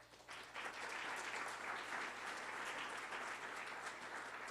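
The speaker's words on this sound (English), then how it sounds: "give them one last round of applause" An audience at a leadership talk applauds for a sponsor, with steady, dense clapping that rises quickly at the start and holds evenly until the end, heard at a distance and fairly quiet.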